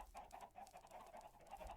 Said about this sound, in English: That has a lot of chickens.